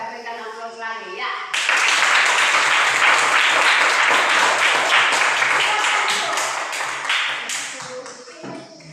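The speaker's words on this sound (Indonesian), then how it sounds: "Kita berikan aplaus lagi ya." An audience bursts into loud, dense applause after a quiet spoken moment, with many hands clapping together before the sound tapers off near the end while a voice talks.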